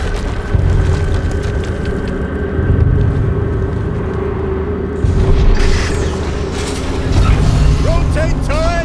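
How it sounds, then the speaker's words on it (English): Explosions from the video game Horizon Zero Dawn Remastered give several heavy rumbling booms spread across the stretch, loud and full, under a dense game soundscape with a person talking. "another explosion."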